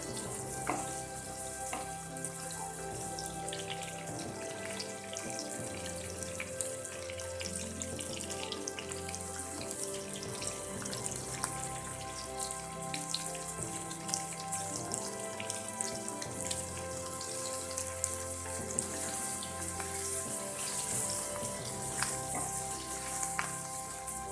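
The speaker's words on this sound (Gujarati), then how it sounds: "ગુંદાને આપણે થોડા સોફ્ટ થાય ત્યાં સુધી આ રીતે તેલમાં ચડવા દઈએ" Stuffed gunda cooking in oil, a dense, low sizzle and bubbling that runs on and on. A tonal hum or background music plays faintly beneath it, and no voices are heard.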